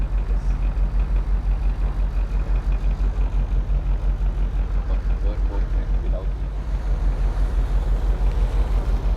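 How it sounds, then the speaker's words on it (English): Trawler engines drone with a steady low rumble and rhythmic throb, both running forward, mixed with wind buffeting and water noise close to the microphone. "All right, both engines forward."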